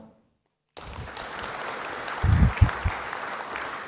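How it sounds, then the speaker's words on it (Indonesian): A brief silence, then a crowd bursts into steady applause that builds slightly, with a few louder claps standing out near the end. "tepuk tangan"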